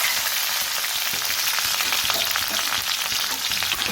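Green chillies and tomato fry in hot oil for a cabbage and potato dish, giving a dense, steady sizzle that stays loud and even throughout with no voices.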